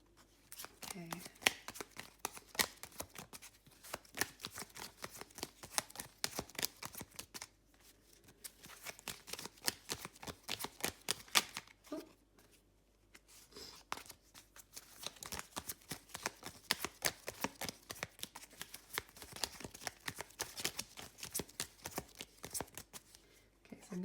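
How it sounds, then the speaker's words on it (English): Small tarot cards being shuffled over and over, rapid papery riffles and taps in bursts with a short pause midway, close and fairly quiet. "they're quite hard to shuffle because they're so small"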